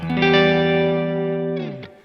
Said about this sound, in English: Here's our clean sound.